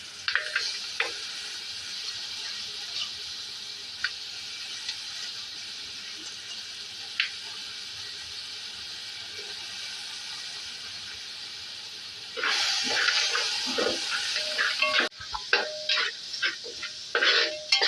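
Crab set into a pan of salted gravy topped with coconut oil, a steady soft hiss and gentle sizzle with faint stirring, then a louder burst of bubbling and scraping toward the end.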